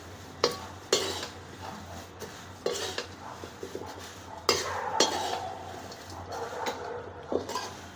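Powdered sugar and salt being stirred together in a metal pot or bowl for thin poha chivda, giving scraping, clinking spoon strokes with sharp irregular knocks over a steady low kitchen hum.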